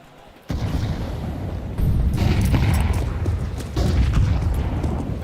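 Grenades detonate during a professional Counter-Strike match at IEM Cologne 2025, with three heavy booming blasts, each followed by rumbling gunfire and game noise that stays loud throughout.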